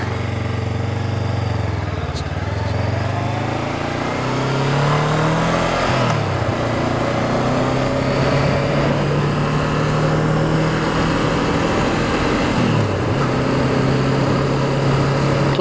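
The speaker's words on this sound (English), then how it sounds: "Ooh, it's got a little burble to the exhaust on the change down." A 2019 Honda CB500F motorcycle engine and exhaust while riding on the road, a loud steady drone with rising and falling revs through gear changes and a slight burble on downshifts.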